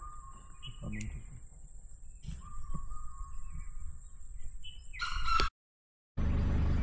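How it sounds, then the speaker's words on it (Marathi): Oriental magpie-robin and jungle fowl call in the forest at Tadoba's Mamla Gate on a morning safari: clear, repeated whistled notes and chirps from nearby birds, with faint low calls and light background hum before the sound cuts out briefly. "आणि बाजूला ते जंगली कोंबडी, बरोबर आहे का? आवाज येतोय तो."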